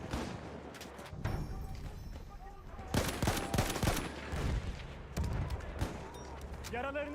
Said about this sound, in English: Düşman makinalı tüfeği.